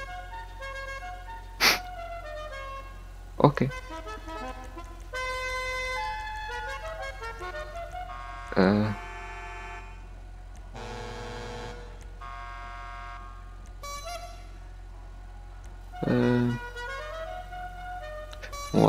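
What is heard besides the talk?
car horn options in GTA V video game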